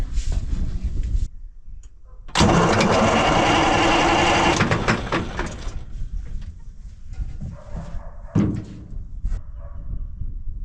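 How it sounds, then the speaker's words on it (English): A Kirovets tractor engine cranks over in one loud, sustained, rattling churn lasting a couple of seconds. Quieter mechanical clatter comes before and after it. "I'm gonna try to spin the engine a bit."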